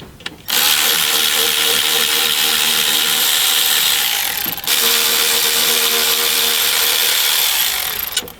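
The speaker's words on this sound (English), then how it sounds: "This is the Milwaukee 3/8 battery powered ratchet." A Milwaukee 3/8 battery-powered ratchet removing an alternator during a junkyard K-swap whirs loud and close in two long bursts with a brief pause between them, followed by a short blip at the end, with no talking.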